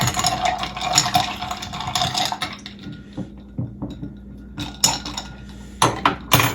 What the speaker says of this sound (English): Give it another good stir.